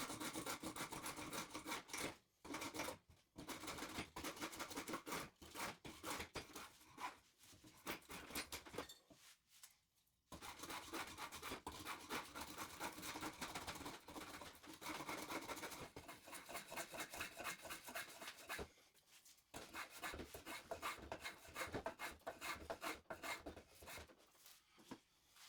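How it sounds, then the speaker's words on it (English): A spokeshave shapes wooden stool legs held in a vise, producing close, continuous rasping strokes in long runs broken by a few short pauses, with no talking. "I went to finish the legs with the Spokeshave again."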